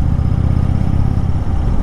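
The air-cooled, fuel-injected Thunderstroke engine of a 2018 Indian Chief Dark Horse motorcycle gives a close, steady low rumble with an even, throbbing pulse throughout.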